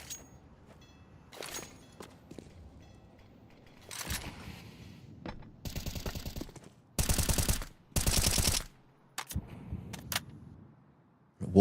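Counter-Strike gunfire in a wallbang exchange, a few scattered single shots followed by several loud sustained bursts of automatic fire, with quiet gaps between them.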